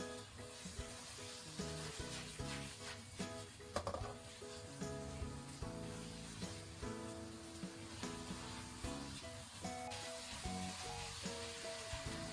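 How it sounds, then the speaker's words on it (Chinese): Matsutake mushrooms and scallion sections stir-fried in a wok with salt, sugar and oyster sauce, giving a steady close sizzle with scattered scraping and clatter from tossing throughout. "加入适量的葱段，再快速的翻炒几下"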